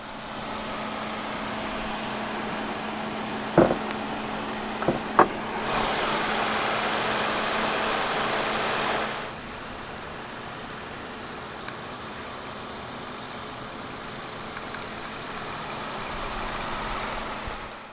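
A 2013 Kia Cerato with a 2.0-litre twin-cam 16-valve engine idling after start-up, a steady low hum with a few sharp clicks, a louder stretch of rushing noise in the middle, then settling back to quiet idle.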